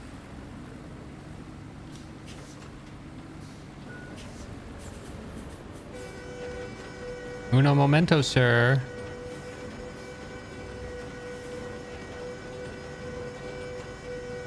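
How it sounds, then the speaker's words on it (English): Vehicle horns honk in the RoadCraft game, a loud doubled blast lasting about a second over a steady engine hum, with someone talking before and after. "Quit your honking."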